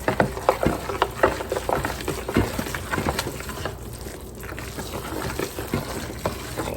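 A moist, soupy cornbread dressing is stirred and mixed by hand for a crockpot, giving steady wet squelching and sloshing with soft thuds, close and moderately loud, with no talking.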